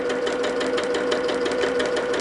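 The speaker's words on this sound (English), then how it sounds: "Okay, just a 1/4 inch seam down both of these sides." A sewing machine runs steadily, stitching a quarter-inch seam down the side of a fabric piece, a continuous mechanical whir with no pauses and no talking over it.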